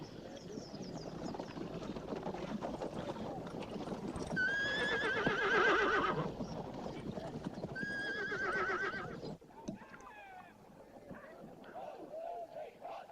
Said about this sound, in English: Our good Colonel Durnford scored quite a coup with this Secale horse.